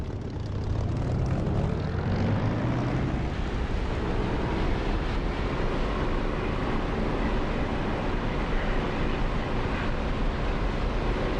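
An aircraft engine in the DCS flight simulator throttles up for takeoff, with a rising propeller drone that swells into a loud, steady roar.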